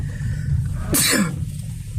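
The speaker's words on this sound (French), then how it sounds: "je risque d'éternuer parce que je suis un peu malade" A single sharp sneeze from a man who is slightly ill, bursting out about midway over a low steady background rumble.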